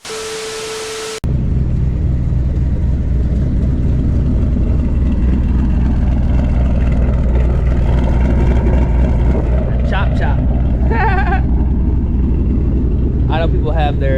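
A Ford S650 Mustang GT with a straight-piped exhaust and no catalytic converters roars loudly and continuously from inside the car, with a brief tone at the start and a few short rev sweeps near the end.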